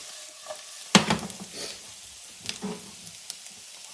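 Vegetables and garlic frying in a pan for fried rice, a soft sizzle with a sharp clatter of stirring near the start and a few lighter scrapes later, fairly quiet overall.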